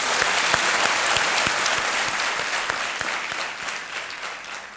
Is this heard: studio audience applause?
yes